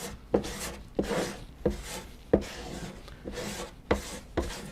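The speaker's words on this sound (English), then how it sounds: "Just spread a little around, and then I use a rubber squeegee." A rubber squeegee drags pore filler across the wooden back of a guitar in repeated rasping strokes, about six passes, each opening with a sharp scrape, loud and close with no talking.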